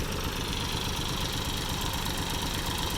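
Continuous low rumble of a tractor engine running steadily, close by and loud, with no talking.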